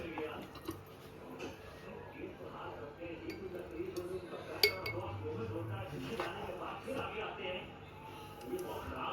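Light clinks of glassware against each other, scattered through the clip beneath steady talking and kitchen clatter.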